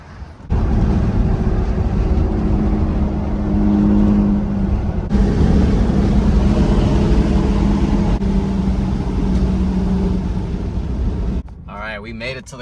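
A Toyota with a swapped-in 3.4 engine drives along, a loud, steady engine drone and road rumble heard from inside the cab that shifts in tone midway before dropping away at the end.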